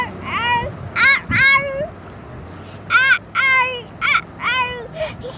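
Seagulls give a series of sharp, harmonic, squealing calls, about seven in short bursts with brief gaps, close and loud.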